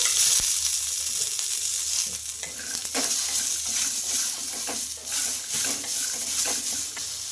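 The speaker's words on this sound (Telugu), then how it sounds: "ఇంకా వెల్లుల్లి రెబ్బలు ఇవన్నీ వేసుకొని కొంచెం ఇలా ఫ్రై చేసుకోవాలి" Garlic cloves frying in a little oil in a pan for ragi idli chutney, a steady close sizzle with faint stirring scrapes and no talk.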